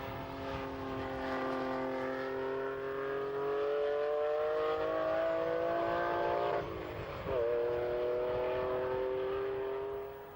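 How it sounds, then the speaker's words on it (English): A Lamborghini Countach at the Castle Combe Circuit supercar day in 1990 holds a steady, droning engine note that rises gradually, then dips briefly at a shift before climbing again, heard fairly distant. "The Lamborghini Countach."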